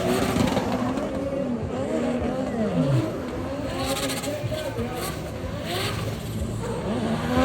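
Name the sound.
LS-powered Nissan drift car revving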